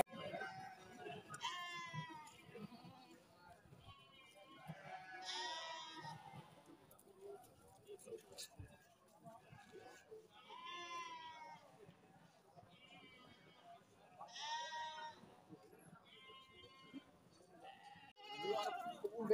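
Sacrificial goats offered for sale, heard as repeated bleats scattered across the scene, mixed with people talking nearby and general farmyard bustle.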